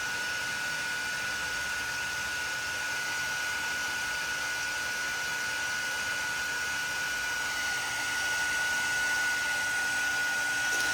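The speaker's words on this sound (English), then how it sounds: "it's picking up my heat gun and not the panel" Heat gun blowing steadily for the whole stretch, a loud even rushing hiss with a faint constant whine, used while embossing foil on a pumpkin spice card, no voices over it.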